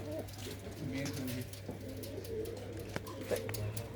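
Pigeons, mostly male birds, cooing softly in a loft or netted enclosure, low repeated coos over a steady background hum, with faint voices nearby.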